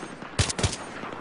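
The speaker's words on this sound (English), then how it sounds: "I'm gonna use my burst fire." A quick burst of gunfire from a burst-fire rifle in the Battlefield 3 video game, with two close, sharp shots in rapid succession over low background game noise.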